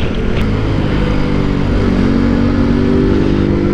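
A motorcycle rides along a winding mountain road, its engine a loud, close, continuous drone with wind rush and subtle shifts in pitch, no talking.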